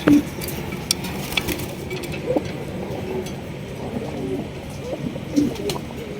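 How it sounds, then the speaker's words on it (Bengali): A pair of golla pigeons on a large pigeon farm coo in soft, low, repeated phrases close by, over a busy background of rustling and other birds. "দর্শক এখানে রয়েছে একজোড়া গোল্লা কবুতর দেখতেই পাচ্ছেন"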